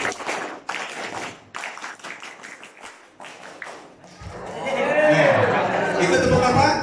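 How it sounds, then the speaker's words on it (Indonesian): A group claps hands in a series of sharp, separate beats, about thirteen times in a rhythmic pattern, at a training session in an Islamic boarding school; chatter and talking follow as the clapping ends. "Tepuk tangan"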